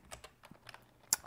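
Quick keystrokes on a computer keyboard, a short burst of light uneven clicks ending in one sharper tap, close and quiet with no speech.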